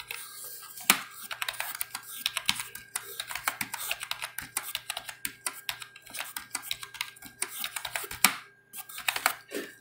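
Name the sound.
typing a value on a computer keyboard in Excel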